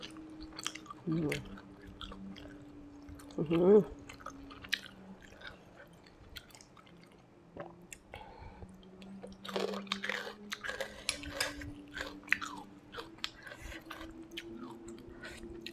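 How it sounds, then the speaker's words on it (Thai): Close-up eating of noodle soup with yellow egg noodles, pork, fried garlic and crispy pork rinds: scattered crunches, bites and wet chewing with slurp-like bursts, separated by quiet pauses. "กินก๋วยเตี๋ยวน้ำกันผู้ใดกำลังหิวอยู่"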